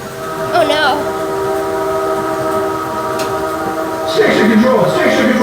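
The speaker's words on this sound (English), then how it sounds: "Control, we have a train on our track and it's coming right at us." Approaching-train sound effect on an earthquake-themed theme park ride in Tennessee: a sustained whistle-like horn tone holds steady throughout, with rumbling noise and a louder burst near the end, mixed with voices.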